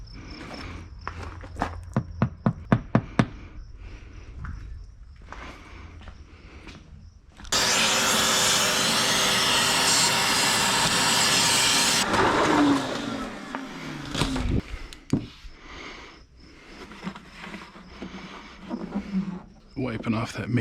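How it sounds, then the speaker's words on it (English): A shop vacuum cleans debris out of the air box on a Can-Am Spyder RT, its broadband hiss running steady for several seconds between quieter stretches of handling noise and clicks. "So I'll vacuum that out."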